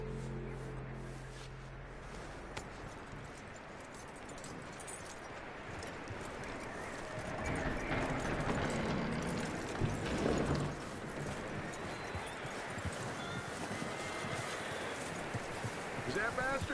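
Horse hooves clip-clop steadily through a Red Dead Redemption 2 game world, a continuous close riding rhythm that grows a little louder midway, with rustling ambience and occasional speech over it.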